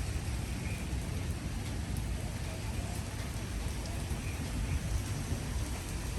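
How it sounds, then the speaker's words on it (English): Steady rain falls outdoors along a town street, a constant dense patter on surfaces that holds at an even, moderate level throughout with no voices. "Yeah, we'll just wait it out the rain."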